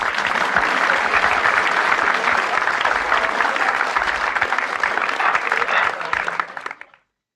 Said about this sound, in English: a round of applause for the live stream keeping going.